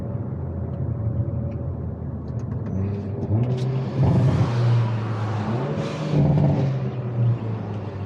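A Hyundai Kona N engine revs and drones steadily, with a few sharp crackling bursts from the exhaust as the pitch climbs and falls.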